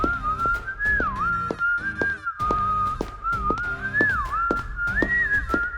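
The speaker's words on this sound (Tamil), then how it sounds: "திரும்பி விசில் அடித்தபடி படிக்கட்டுகளில் இறங்கி" Melodic human whistling, loud and close, runs continuously as someone walks away down a flight of stairs, with faint footstep-like knocks underneath.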